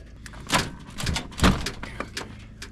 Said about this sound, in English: These door handles are pretty rusty.